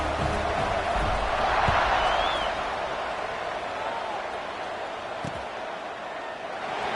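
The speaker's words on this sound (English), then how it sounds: "They're set to kick it off, and this crowd now ready to get behind them." Stadium crowd in the video game College Football 26 during ECU vs Appalachian State before a kickoff, a dense continuous roar swelling slightly early then settling, steady throughout.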